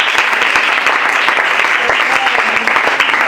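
A church congregation breaks into loud, sustained applause for Jesus, dense clapping filling the space close and continuous throughout.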